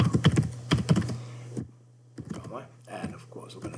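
Computer keyboard keys clatter in quick bursts of typing, close and clear, with a brief pause in the middle before the tapping resumes; a voice talks over it.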